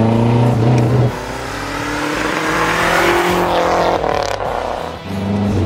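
Four-cylinder engine of a Lancia Delta Integrale revving and pulling on a mountain road with hairpin bends, loud and close throughout, its pitch rising and falling with throttle changes.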